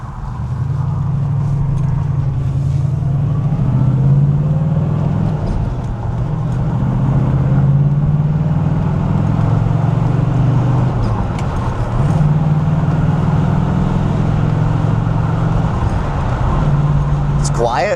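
A 1977 Pontiac Firebird Trans Am hardtop with a four-speed cruises at a steady 50 mph around 1,800 RPM, its low engine drone and road rumble continuous and close throughout, with brief dips, while someone talks over it.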